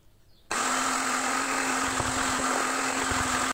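Steady, loud whirring grind of a food processor chopping lentils for falafel, switching on abruptly after a brief quiet start and running continuously with a constant motor hum and rattling blade texture, alone without talk.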